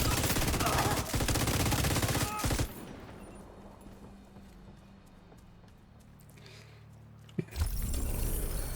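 Video game gunfire at targets, a dense rapid burst of loud shots for about two and a half seconds, a quieter stretch of low background noise, then a sharp crack and another burst of firing.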